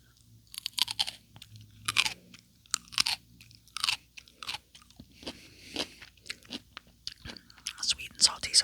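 Someone crunches close-up on daikon radish kimchi with rice, with a quick run of crisp, wet bites and chewing. A low voice murmurs briefly at the start.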